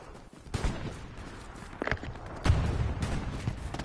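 Machine gun fire in the WWII shooter Hell Let Loose, scattered bursts and single cracks at a distance, with a sharper volley near the end.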